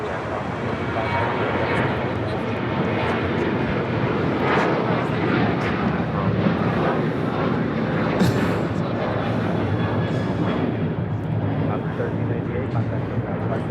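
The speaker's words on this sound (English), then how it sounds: "This is Alaska Airlines 1398 taking off to Mazatlan on a 737-800" An Alaska Airlines Boeing 737-800 takes off at LAX, its jet engines roaring as a loud, steady broadband rumble that holds throughout while people talk nearby.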